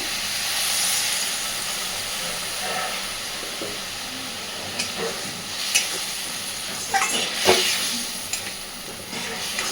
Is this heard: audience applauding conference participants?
no